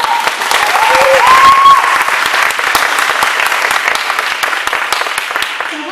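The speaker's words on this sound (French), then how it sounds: "On peut l'applaudir très fort." An event audience claps loudly and steadily for a guest from Flash System, with dense sustained applause and a brief high whistle early on.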